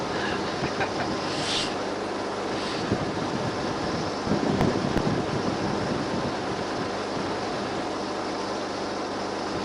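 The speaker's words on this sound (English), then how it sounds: "It's getting windy out here." Strong wind roars steadily across the microphone outdoors by a cabin, with rushing gusts and a low rumble like surf or an engine beneath.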